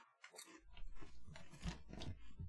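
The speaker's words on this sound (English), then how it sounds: "I'm gonna eat a chip is what I'm gonna do." Close crunching and chewing on kettle-cooked sea salt potato chips, a run of loud crisp bites and grinding chews right at the microphone, with no talking.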